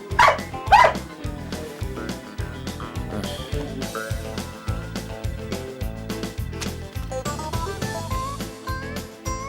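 A dog barks and yips a few times near the start, loud and close, then the calls fade under a steady rhythmic music bed in a Turkish TV drama scene.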